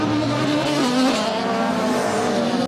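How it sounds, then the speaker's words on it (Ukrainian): Rally race car engines roar together at the start of a final on a circuit, a loud, steady, dense drone with harmonic whine that holds at constant level throughout, no voices. "Уже чути ревіння моторів."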